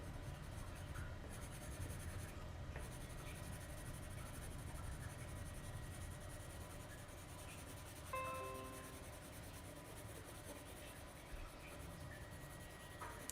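Oil pastel rubbed and stroked across paper in a beginner drawing lesson, a steady close scratchy scraping that runs throughout without a break, with no one speaking.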